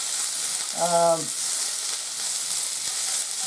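Vegetables stir frying in a pan, cooked for natto yakisoba noodles, give a steady, fairly quiet sizzle throughout, with a short voiced tone briefly rising above it near the start.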